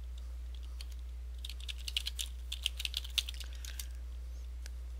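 Keys clatter as show commands are typed into a Cisco IOS command line during a Packet Tracer exercise, a quick irregular run of close, light clicks over a steady low electrical hum.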